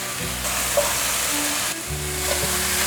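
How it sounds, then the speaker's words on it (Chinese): Tomato and enoki mushrooms crackle as they are stir-fried in a wok, a loud, close, even sizzle with brief scraping of a spatula and a low hum beneath, no talking. "快速的翻炒，把番茄炒软"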